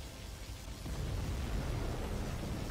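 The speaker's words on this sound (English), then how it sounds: "Our ally has activated their particle cannon." A particle cannon strike in the real-time strategy game C&C Generals Zero Hour swells into a dense, roaring blast that holds steady and loud to the end, with no voices over it.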